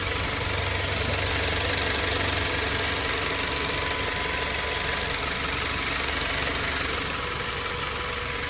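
Dodge Avenger engine idling with a thermostat housing coolant leak under repair, a steady loud broadband rumble and hiss holding constant throughout, close by and alone.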